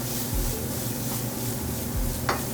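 Five chopped garlic cloves sauté in a hot pan after mushrooms, giving a steady, close sizzle with a few soft stirring scrapes and one brief sharp clink, no talk.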